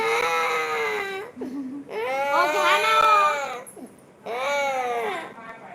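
A young child cries in loud, wailing bursts with short breaks between sobs, close by and alone, distressed at being made to take a tablet.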